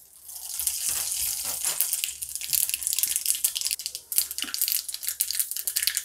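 Mustard seeds spluttering and popping in hot oil for tempering a guava chutney, a dense, steady crackling sizzle with scattered sharper pops, close and loud throughout.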